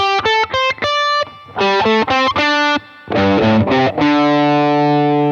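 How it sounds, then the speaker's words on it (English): Distorted electric guitar plays the same short phrase three times, each pass in a higher octave, with the final chord ringing out. "You can hear that the actual notes are the same, but they're in 3 different octaves."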